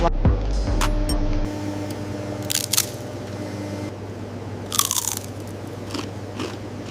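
Potato chips crunch in several sharp, crisp bursts on a factory production line, standing out above a steady low machinery hum.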